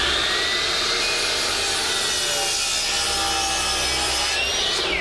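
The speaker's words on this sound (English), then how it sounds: "Now I'll slide it down to my stop, which gives me the exact length I want." A wood board slides along a saw fence for a trestle table leg, giving a steady close rubbing, scraping sound of wood on metal for about five seconds, ending in a brief stop.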